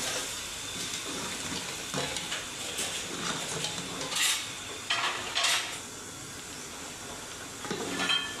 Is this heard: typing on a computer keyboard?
no